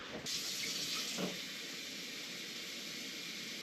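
Tap water runs steadily to fill a seedling tray for bottom watering, a close, continuous rushing hiss that starts after a brief quiet moment and holds evenly to the end.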